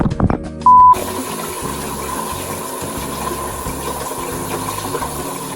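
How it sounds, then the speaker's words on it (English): After a brief beep, warm water gushes steadily from a tap, a loud continuous running splash that fills the rest of the clip. "so I'm gonna run my warm water."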